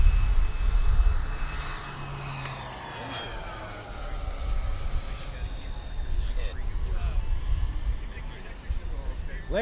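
FMS F7F Tigercat twin-engine RC model airplane, 1700mm, on its maiden flight, coming in to land in a crosswind: the droning propeller hum sweeps past at a moderate distance while people talk close by.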